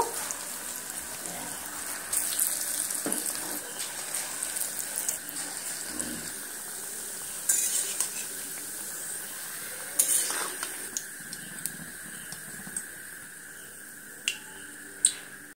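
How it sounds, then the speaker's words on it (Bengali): Cabbage and red lentil pakoras fry in oil, giving a broad, hissing sizzle dotted with sharp crackles and sudden louder bursts as batter drops in, fairly close. "একই রকম ভাবে বাকি পকোড়াগুলো সমস্ত পকোড়াগুলো আমি এইভাবে করে ভেজে নেব"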